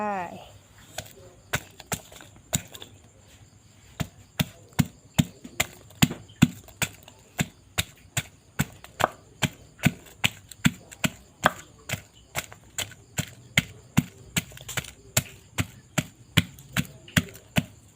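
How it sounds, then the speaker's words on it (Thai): Garlic pounded in a mortar for Isan-style fermented bamboo shoots, a long run of steady, sharp rhythmic thuds, close and fairly loud, with brief pauses. "ตำกระเทียมเพื่อน ๆ ใส่ลงไป"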